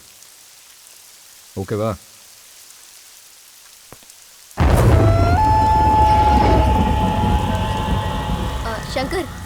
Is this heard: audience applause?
no